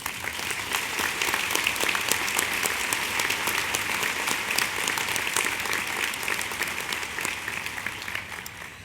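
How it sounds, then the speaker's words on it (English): Sustained audience applause for a Distinguished Alumni Award winner at a college commencement ceremony, a thick wash of many hands clapping steadily for several seconds, loud and even throughout with no speech over it. "please join me in applauding him"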